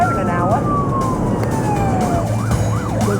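Emergency vehicle siren wailing loudly and continuously on a high-speed run to an overturned car, rising and falling in pitch over a steady engine rumble.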